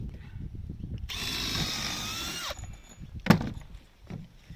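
A power drill whirs for about a second and a half as it drives a roofing screw into a timber roof batten of a cabin kit, followed by a single sharp knock and quieter handling noise.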